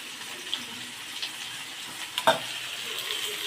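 Tamarind water is poured into a pan of bottle gourd koottu and stirred, giving a soft liquid splash and faint sizzle with a sharp clink of the spoon near the middle, close and fairly quiet.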